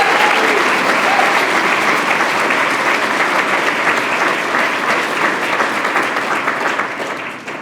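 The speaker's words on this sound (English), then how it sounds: "Round of applause," Sustained, dense audience applause for Dr. Loury at a public policy event, loud and steady throughout before tapering slightly at the end, with no talking over it.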